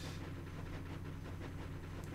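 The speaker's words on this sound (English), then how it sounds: "it's the propeller of the airship. You can probably hear in the background." A low, steady airship propeller drone from Final Fantasy IX hums faintly in the background, a continuous rumbling engine tone with a soft, regular pulsing beat.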